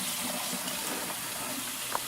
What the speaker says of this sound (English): we're going to run cold water over it, not hot